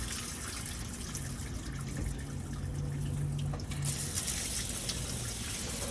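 Water draining from an RV holding tank at a dump station, a steady low rushing gush with a faint hiss, continuous and moderately quiet, with a brief shift in tone near the end.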